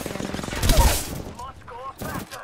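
Rapid gunfire from a weapon in a shooter video game, a dense burst of shots in the first second followed by scattered quieter reports, with a voice talking over it.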